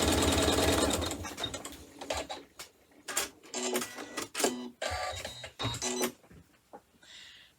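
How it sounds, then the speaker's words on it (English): A sewing machine runs in repeated short bursts of rapid stitching as it sews a line across fabric for chenille hot pads, with brief pauses between runs. "step number 5 on the machine will sew a line across the bottom of that center piece of fabric."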